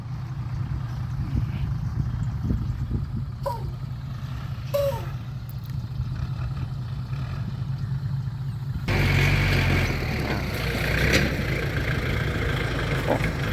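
A tractor's engine runs steadily at a mid pitch while it grades a dirt road, a continuous near drone with a few brief scrapes, shifting to a louder, rougher broadband rumble in the final seconds.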